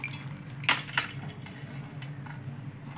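Peanuts dropping into a mixer jar already holding red chillies make two quick, bright clinks close by, with a quiet hum underneath.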